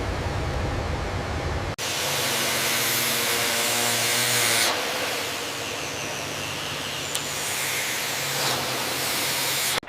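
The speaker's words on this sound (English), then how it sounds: "Confirm steam release in Sector 4." Steady loud hiss of steam venting in a Boeing 747 aircraft factory, broad and continuous for about ten seconds, broken by a couple of abrupt cuts where the rush restarts.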